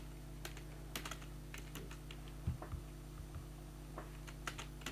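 Someone types a software search into Google on a computer keyboard: sparse, quiet, irregular key clicks and taps over a steady low electrical hum, with no talking.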